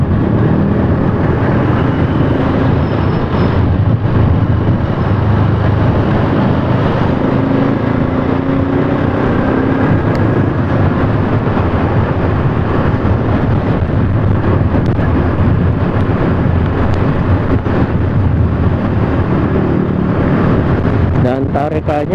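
A Honda Supra motorcycle engine-braking after the throttle is released, a loud, steady engine drone mixed with heavy wind rush buffeting the microphone throughout the ride.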